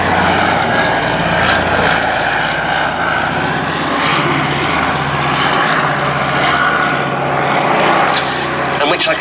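Propeller-driven aeroplane flying at the Duxford air festival, a steady loud engine drone sustained throughout with a faint voice underneath.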